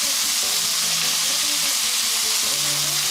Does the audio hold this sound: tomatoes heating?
yes